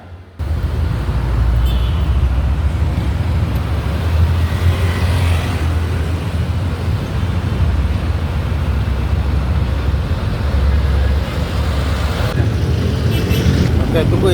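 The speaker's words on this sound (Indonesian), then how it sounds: "mencari kehidupan dengan cara harus menjual di tengah kepadatan lalu lintas" Heavy urban road traffic, with a steady broadband roar of engines and passing vehicles filling the whole stretch at close range, loud and continuous, while people talk over it.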